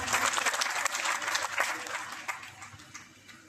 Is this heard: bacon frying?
no